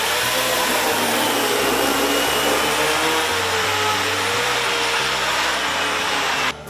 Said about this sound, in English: you know he's getting serious when he breaks out the power tools